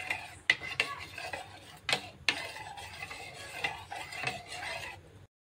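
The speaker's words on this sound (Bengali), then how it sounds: "অ্যাসিটিক অ্যাসিড জলটার মধ্যে আমি চামচটা দিয়ে ভালো করে মিশিয়ে নেব জলের সাথে।" A metal spoon stirs acetic acid into water in a container, clinking and scraping in a loose rhythm of sharp taps and swirling rubs, close and alone, ending in silence.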